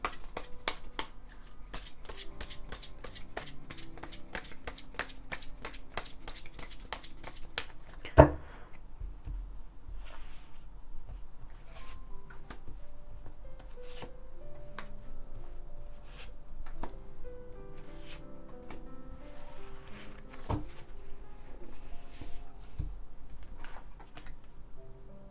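Tarot cards are shuffled in a fast, dense riffle of crisp clicks for about eight seconds, then drawn and laid down in scattered soft snaps and taps, close by and with no talking.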